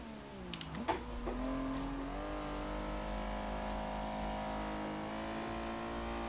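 A car engine in Forza Horizon 3 drives along steadily. After a brief rev and gear change near the start, it settles into a sustained, mid-level drone.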